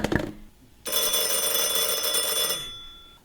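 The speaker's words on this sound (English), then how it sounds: "Oh, let it ring. Let it go on ringing." An old telephone bell rings in a radio drama: a short sharp burst, then one long continuous metallic ring lasting nearly two seconds before fading, loud and close with no voices.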